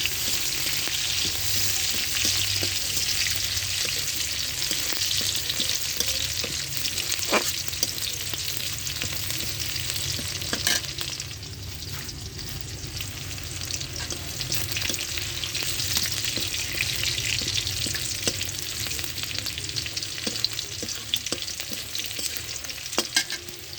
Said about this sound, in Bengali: রসুনের পেঁয়াজ ভালোভাবে আমি ভেজে নেবো